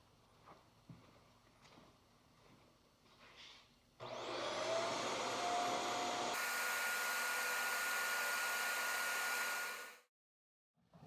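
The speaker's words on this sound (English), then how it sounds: "I wanted to show the power of this Dyson vacuum" Dyson vacuum cleaner switches on after some quiet handling noises, runs at a loud steady whine for about six seconds while lifting a milk crate of bricks, then cuts off abruptly.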